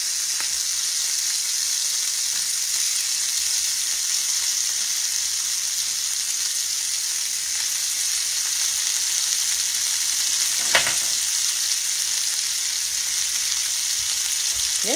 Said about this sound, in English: let's put our onions in now